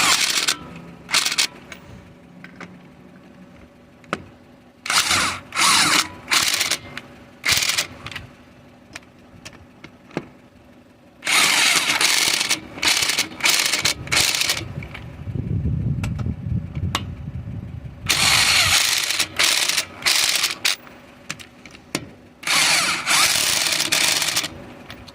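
A power tool buzzes in repeated short bursts while running lug nuts onto a car wheel after a tire patch, loud and close, with quieter handling noise and pauses between the runs.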